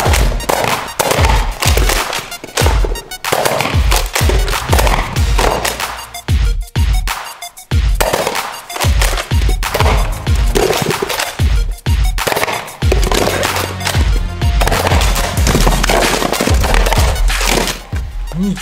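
Nerf Rival Kronos blaster firing foam balls in a string of sharp, loud pops and thumps at a steady, fairly rapid pace, close by and with no talk over them.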